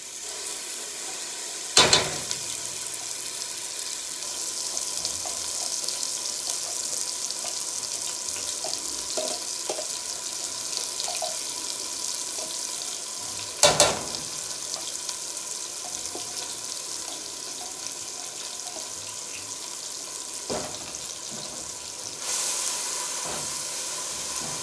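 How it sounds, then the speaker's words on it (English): Onion puree fries quietly in a pan for peas and cottage cheese curry, a soft steady sizzle throughout, broken by a few sharp clanks of a utensil against the pan. "So I'm putting my onion puree in there."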